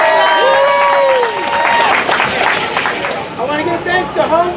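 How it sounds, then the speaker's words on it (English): Loud crowd applause and cheering at a housing celebration, with clapping mixed with whoops and bursts of excited voices that rise and fall through the moment, the clapping thinning toward the end. "everybody give her a round of applause"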